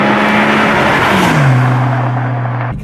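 The Borla exhaust prototype on a GT sports car, set against an 800 hp NSX and a Ferrari 550, revs loudly up close, its engine note dropping as the revs fall and settling into a steady drone before cutting off.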